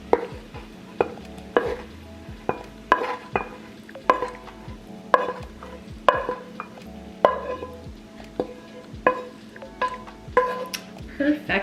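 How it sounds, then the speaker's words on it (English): Seasoned potatoes cooking in a pan give a soft steady sizzle and bubble, broken by regular clinks and scrapes of a utensil stirring against the pan. "And these are my potatoes. Getting nice and bubbly."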